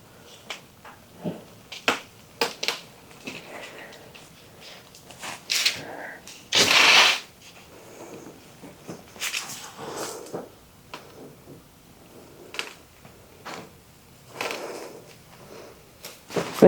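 A rolling multi-blade cutter with blades about half an inch apart, like a pizza cutter, slicing cereal in a kitchen, giving scattered short crisp crunches and one louder sustained rasp near the middle, close and without talk.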